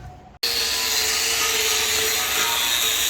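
A wire wheel on a power tool scrubs surface rust off a tank, starting abruptly and then running as a loud, steady, close abrasive whir with no pauses.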